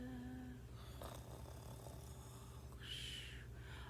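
A child imitates snoring during a preschool storytime, producing faint, breathy snorting rasps at low volume, quiet and alone with no talking.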